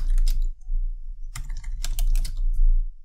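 Typing on a computer keyboard, with bursts of key clicks in quick irregular runs separated by a brief pause, close and fairly loud with no voices.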